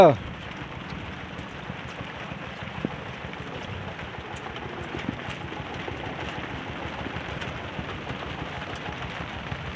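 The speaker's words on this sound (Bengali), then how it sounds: "বৃষ্টি তো আবার জোরে নেমে গেল" Steady heavy rain on a village house, a continuous even hiss and drumming with faint voices beneath it.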